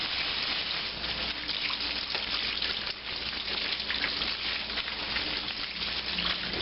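Tap water running steadily into a kitchen sink while poblano pepper seeds are rinsed out, a constant close hiss and splash with no talking.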